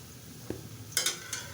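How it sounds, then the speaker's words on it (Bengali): Potatoes fry in a pan with a soft, constant sizzle. A few sharp scrapes and clinks of a utensil against the pan stand out above it. "দেখো আলুগুলো ভাজা হয়ে গেছে"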